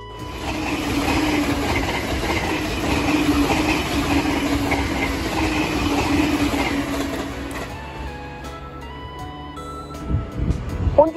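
A local passenger train to Matsumoto rumbles steadily with wheels clattering on the rails, close by, then slows and quiets, with faint squeals near the end.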